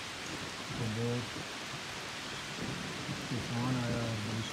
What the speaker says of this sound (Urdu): آج جو ہے نا یہ بادل برستے ہیں اور خوب جم کے برستے ہیں۔